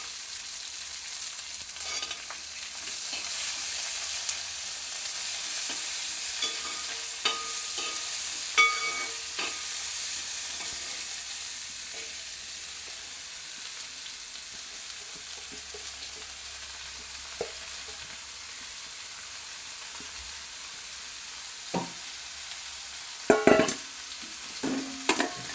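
Ginger, onion and garlic frying together in a pan, a close steady sizzle stirred throughout with scattered scrapes and a cluster of louder spoon knocks near the end.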